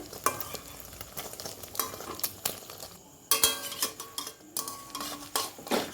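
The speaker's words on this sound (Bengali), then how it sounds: "আমি এটাকে ভেজে নেব বেশ সুন্দর করে" Food sizzles and fries in a pan, with a spatula scraping and clinking against the metal in uneven strokes.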